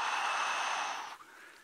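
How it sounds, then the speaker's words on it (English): A wild giraffe gives a single sharp, breathy snort like an alarm call, a loud rushing exhale that stops abruptly and leaves faint background hiss. "That's almost a giraffe alarm call."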